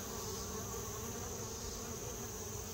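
Honey bees moving back and forth on a hive body make a dense, steady buzz that stays close and unbroken from start to end.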